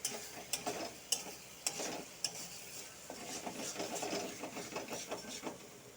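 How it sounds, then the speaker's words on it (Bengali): Tomato and spices fry for a mushroom curry under a soft sizzle, while a spoon scrapes and taps against the pan in a regular rhythm, quiet and close. "ভাজার পরে টমেটোটা দিয়েছি টমেটোটার সাথে আবার ভাজবো"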